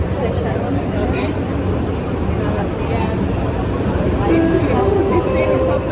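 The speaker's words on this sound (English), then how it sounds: "This train is so fast." Inside a fast electric train, a loud steady rumble and roar fills the carriage with a faint whine rising near the end, while people talk over the noise.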